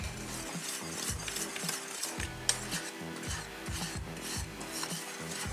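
Dry ingredients including baking powder and baking soda are stirred together in a bowl, giving a rhythmic, close scraping and rubbing sound that repeats steadily with no talking.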